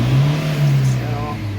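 Toyota Fortuner with a low-power fault revving briefly in a workshop, a loud steady low engine drone with a voice talking over it.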